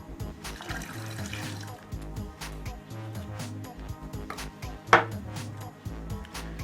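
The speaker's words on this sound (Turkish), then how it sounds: "Şöyle kalanları da suyla karıştırıp şişenin içine dökelim." Water mixed with yeast leftovers is poured into a plastic bottle for a homemade CO2 system, giving a close, continuous trickling gurgle with light handling knocks and one sharper clink.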